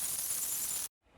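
Noisy, glassy texture layer for an 808, made with the Devious Machines Texture plugin, hissing bright and steady for under a second before stopping dead, followed by faint residual noise.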